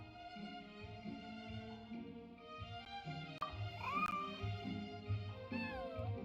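Cat meowing in the video game Genshin Impact, with several drawn-out, rising and falling meows over a steady musical background, one louder cry near the middle.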